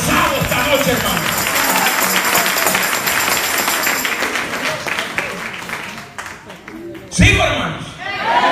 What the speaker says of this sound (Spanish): ese aplauso yo lo noto como medio forzado esta noche